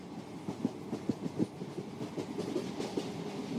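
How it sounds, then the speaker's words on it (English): A train clattering along the rails in a steady rhythmic clickety-clack, the wheel knocks repeating over a continuous low rumble, fairly quiet and even. "The repetitive sound of the train is almost meditative"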